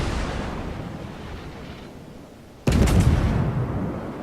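Naval cannon fire in the World of Warships video game: a steady low rumbling bed breaks into a sudden loud booming blast that carries a heavy sustained roar to the end.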